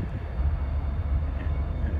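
Train passing on nearby tracks, a steady low rumble with rolling rhythmic clatter that holds at moderate level throughout, with no voices.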